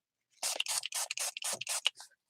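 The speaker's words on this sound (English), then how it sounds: "I'm just going to wipe it off for now, and then I'll spray it with some water" A hand spray bottle spritzes water onto a rubber stamp at a craft table, several quick hissing pumps in rapid succession, close and crisp against silence.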